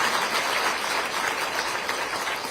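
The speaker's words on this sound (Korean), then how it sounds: "박수 한번 부탁드리겠습니다" Audience at a book concert in Ulsan clapping together, a dense, steady wash of applause filling the room at even loudness throughout.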